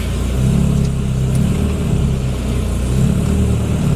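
Supercharged Morris Minor engine droning while the car is driven, a loud continuous rough mid-pitched running note with slight revving swells, no talk over it.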